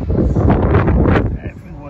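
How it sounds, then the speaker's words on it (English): Wind buffets the microphone on the open deck of the P&O Ventura cruise ship, a rough, gusty roar heard close up with a voice talking over it. "It's quite windy."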